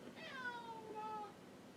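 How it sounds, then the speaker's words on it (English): A pet cat meows twice indoors in the background, quiet and drawn out, the second call sliding downward, with a faint low hum underneath. "That's my cat meowing in the background"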